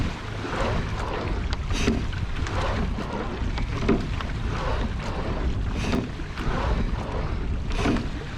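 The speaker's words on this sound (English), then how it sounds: "There's a gust of wind coming." Wind gusts steadily across an open rowing course at a park, a loud broadband rush with buffeting surges close to the microphone and no voices.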